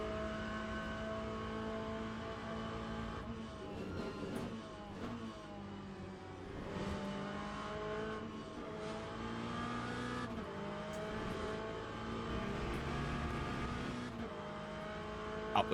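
A Corvette GT3 race car in Le Mans Ultimate at Monza drones at a steady engine pitch that rises and falls through gear changes, with other cars faintly nearby and no talk.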